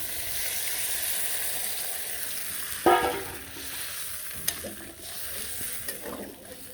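Water poured into a frying soybean curry, a sharp burst of loud sizzling that hisses and settles into a softer crackle, with a few clinks of the pan and no talk.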